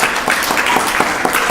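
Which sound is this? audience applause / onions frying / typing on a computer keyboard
audience applause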